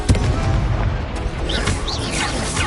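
A Confringo blasting spell in the video game Hogwarts Legacy goes off as a loud, booming explosion, followed by rumbling crackle and a few whooshing, whistling trails over about three seconds.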